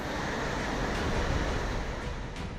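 Rushing monsoon floodwater torrent in Sikkim roars as a dense, steady broadband wash, loud and unbroken with no voices.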